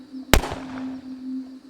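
A single sharp gunshot fired at a shooting range near a campsite cracks out loud and close, then a short echoing tail fades away over a steady low hum.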